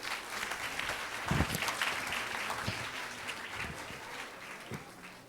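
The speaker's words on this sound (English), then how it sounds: "Ladies and gentlemen, a round of applause," An audience at a social-good forum session in the Philippines applauds a panel moderator, a soft, steady clapping texture with a few sharper nearby claps, heard at a distance.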